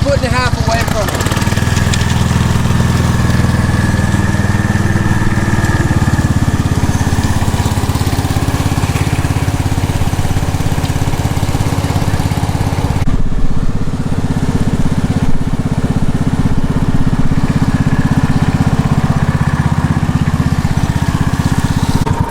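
A tractor drags the dirt infield of a baseball field, its engine droning steadily and close throughout, with a slight change in tone partway as it keeps running; a voice talks over the engine noise.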